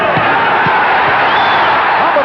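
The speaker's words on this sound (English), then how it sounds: "as you can hear, the crowd loves it" Arena crowd roaring and cheering at a televised heavyweight boxing bout between Scott LeDoux and Ken Norton, a steady loud wash of noise with a commentator talking over it.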